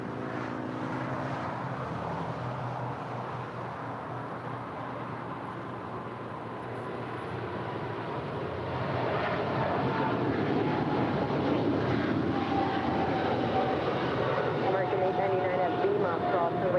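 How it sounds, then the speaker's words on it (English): American Airlines Boeing 777-300ER heavy departing Los Angeles International for London Heathrow: a distant, steady jet roar that swells in the second half, with voices talking over it. "That is American 136 Heavy departing to London Heathrow. It's a 777-300ER."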